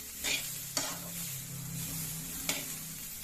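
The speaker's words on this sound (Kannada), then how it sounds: "ಆದರೆ ನಾನು ಬೀನ್ಸ್ನ ಮೊದಲೇ ಫ್ರೈ ಮಾಡಿಕೊಂಡು ಆಮೇಲೆ ಒಗ್ಗರಣೆ ಹಾಕಿರ್ತೀನಿ." Green beans fry in a pan for a sabji, giving a soft, quiet sizzle under slow stirring, with two or three sharp scrapes and clacks of the spoon against the pan.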